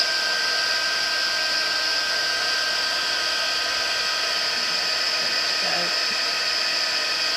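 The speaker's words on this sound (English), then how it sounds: "make sure that your heat tool is really hot before you try and start to emboss" An embossing heat tool blows hot air onto embossing powder, a constant loud whirring hiss like a small hair dryer, running close and unbroken for the whole stretch.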